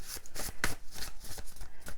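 Hand-made oracle deck cards with rounded corners are shuffled up close, giving a quick burst of crisp riffling flutters and soft slaps in rapid uneven rhythm, no talking.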